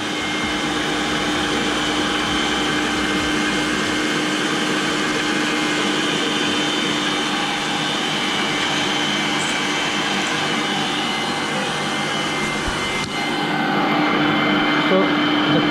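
A planetary stand mixer whisks eggs at speed 6, giving a loud, steady motor whir with a constant rhythmic churning that runs without a break throughout.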